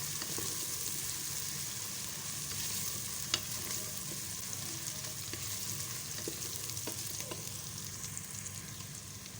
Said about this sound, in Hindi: और इसको मिक्स कर लेंगे। और अच्छी तरह से फ्राई कर लेंगे।